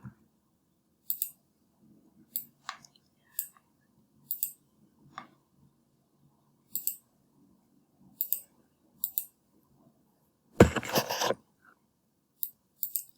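A computer mouse clicks in sharp, isolated taps spread irregularly across a quiet room, with one longer burst of rustling noise midway and faint low murmuring in the background.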